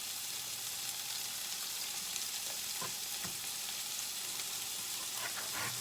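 Sausage fries steadily in a pan, a constant close sizzle with faint crackles and a few brief clicks of utensils, no talking.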